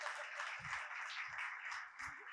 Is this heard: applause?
yes